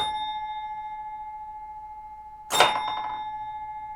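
A pinball machine's knocker fires once with a sharp, loud metallic clang that rings out briefly, after a steady electrical hum from the machine.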